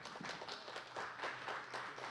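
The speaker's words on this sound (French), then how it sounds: "On peut l'applaudir." Applause from an audience welcoming a speaker at a French presentation on the national MOOC platform FUN, steady clapping filling the room for a couple of seconds.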